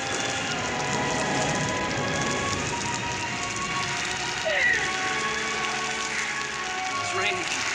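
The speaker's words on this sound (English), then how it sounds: "It's raining." Steady rain falling outdoors, a dense continuous patter at even loudness throughout, with a faint voice briefly audible beneath it.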